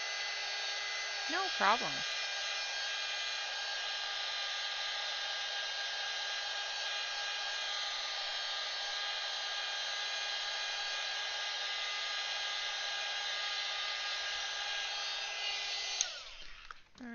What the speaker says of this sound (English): now I'm just going to take the heat gun and dry that